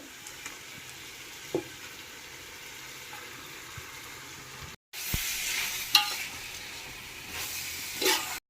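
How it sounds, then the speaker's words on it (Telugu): Marinated chicken fries with masala in a pan for Nellore chicken biryani, a soft sizzle broken by stirring scrapes that swells louder after a short cut, with sharper clinks of the spoon. "మిక్స్ చేసిన తర్వాత మనం మ్యారినేట్ చేసుకున్న చికెన్ని కూడా వేసి ఫ్రై చేసుకోవాలి"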